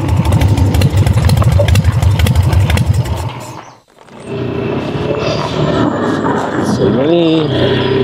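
A broken-down motorcycle engine runs with a loud rapid putter, cuts out, then resumes more unevenly amid voices talking.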